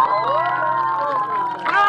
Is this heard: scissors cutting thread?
no